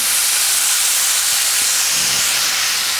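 Lemon juice hits hot prawns in a pan, giving a loud, steady steaming hiss with a brief spitting burst about two seconds in.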